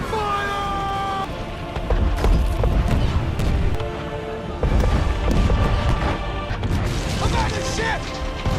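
Ship's cannons boom again and again in a chaotic Pirates of the Caribbean sea battle, loud close blasts and crashing impacts layered over music and shouting voices.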